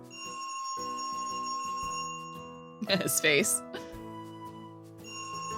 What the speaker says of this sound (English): There's a phone upstairs that will ring until you pick up the receiver.